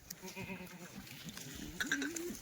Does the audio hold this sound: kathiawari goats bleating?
yes